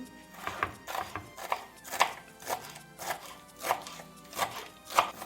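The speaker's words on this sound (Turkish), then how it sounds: "Şimdi de kuzu kulağını doğrayalım." Steady rhythmic knife chopping of sorrel on a cutting board, roughly two crisp strikes per second, close and clear with no talking.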